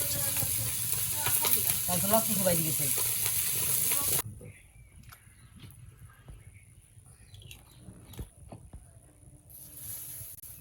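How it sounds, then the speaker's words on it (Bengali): Small mourala fish frying in hot oil in a wok, a loud dense sizzle for about four seconds that drops abruptly to a quieter crackle with scattered pops, with a voice faintly under it at first. "আর মৌরলা মাছ কড়াইতে দিয়ে দেওয়া হলো, ফ্রাই করা নেওয়া হচ্ছে, ভেজে নেওয়া হচ্ছে।"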